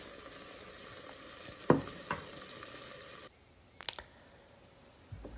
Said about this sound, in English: I'm going to start with the onions and the peppers. Get them sauteing in the pan.